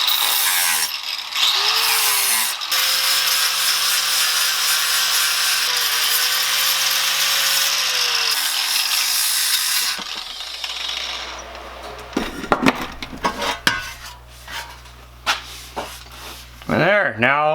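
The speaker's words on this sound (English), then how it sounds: "Just gonna hit it with the flapper disc a little bit." Flap disc on an angle grinder working rust off a G-body Cutlass body panel: a loud continuous grinding whine with a pitch that dips as the disc is pressed, followed by quieter scrapes and knocks. Someone speaks.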